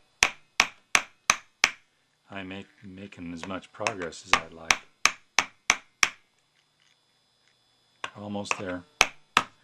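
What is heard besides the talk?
small hammer pounding onto a steel axle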